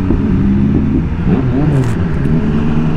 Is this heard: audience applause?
no